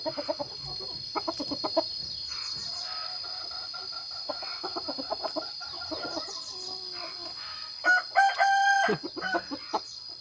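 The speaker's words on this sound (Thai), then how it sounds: "ขันยังบ่สร้างเต็มที่นี่" A young four-month-old red rooster with black legs crows nearby in a short, unfinished call near the end. Hens cluck and other fowl chatter in the background, with faint farmyard noise.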